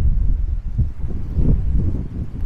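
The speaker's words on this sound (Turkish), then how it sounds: "Acayip rüzgar var. Sahil kesiminde özellikle." Heavy coastal wind in Turgutreis, Bodrum, during a storm buffets the microphone with a continuous low roar and gusty rumbling, close and loud throughout.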